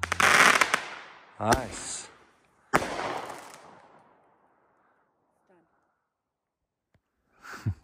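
Consumer fireworks from a 2024 product demonstration go off outdoors: several loud, sharp bangs with crackling tails and fading echoes, spaced a second or more apart, with short comments from people nearby.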